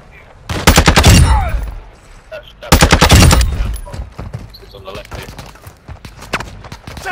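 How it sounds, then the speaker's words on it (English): Rapid automatic gunfire in a video game shooter comes in two loud, close bursts of about a second each, followed by scattered softer shots and in-game sounds, with voices talking over it. "Taking effective fire!"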